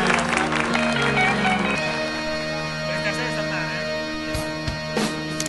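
Audience applause at a reggae awards ceremony, the Premios PelaGatos 2012, sounding as a steady moderate clatter of clapping mixed with sustained music tones and some voices in the room.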